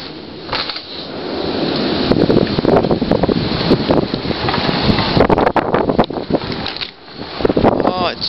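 Strong wind gusts batter an outdoor microphone in southern Michigan, producing heavy continuous roaring buffeting that swells and surges throughout, with a faint voice partly lost beneath the gusts.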